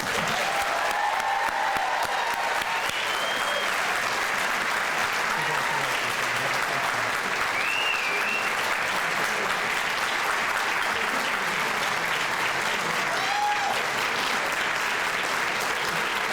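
Loud, sustained applause from a large crowd of family and friends at a Pittsburgh fire bureau graduation ceremony for probationary firefighters, continuous and dense throughout with a few scattered whistles and cheers.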